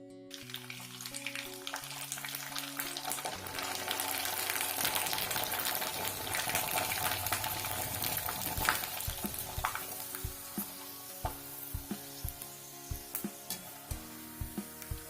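Sabudana papad sizzle and crackle as they are dropped into hot oil, a continuous frying hiss with bubbling and occasional stirring clinks, steady and close throughout.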